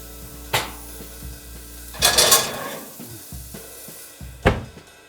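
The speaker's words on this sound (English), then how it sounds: "Then we're gonna just pop this right in the oven." A cast iron pan holding seasoned onions goes into a 200 °C oven, heard as a few separate clunks and metallic knocks, with a louder rattling clatter in the middle, close and without talk.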